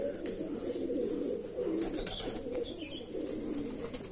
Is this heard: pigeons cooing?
yes